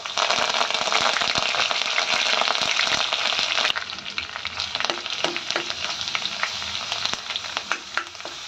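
Cumin, ginger, garlic, coarsely ground coconut and curry leaves sizzle hard in hot oil, a loud continuous frying hiss that eases partway through and turns into scattered crackles and pops.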